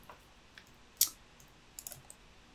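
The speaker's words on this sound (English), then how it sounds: "I type unpin on my keyboard" A few sparse computer keyboard keystrokes while working in Revit, mostly faint clicks with one louder tap near the start and a small cluster toward the end, quiet and close with no talking.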